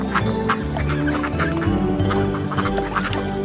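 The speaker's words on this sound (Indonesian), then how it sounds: "Ibunya berkata, kwek kwek kwek." Quacking from cartoon ducks in an Indonesian children's song, repeated short calls riding over a steady, loud musical backing.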